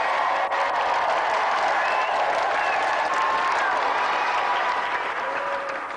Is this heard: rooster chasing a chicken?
no